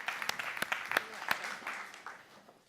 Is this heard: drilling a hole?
no